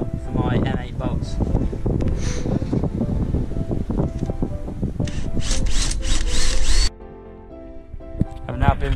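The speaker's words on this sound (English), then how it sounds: "now I'm going to pilot them and then drill them out to 8mm for my M8 bolts" Power drill piloting and then boring 8mm holes in a metal roof rack on a camper van, a continuous grinding, whining drilling run that stops abruptly near the end, with no talking.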